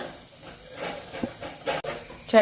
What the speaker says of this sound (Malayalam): ചട്ടി അടുപ്പിൽ വെച്ച് ചൂടായി കഴിയുമ്പോൾ കുറച്ച് എണ്ണ ഒഴിക്കുക